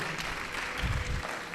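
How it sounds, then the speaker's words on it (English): Audience applause at an annual seminar, a short burst of clapping from a seated crowd at moderate, steady loudness with no voices standing out. "Please, a round of applause for her."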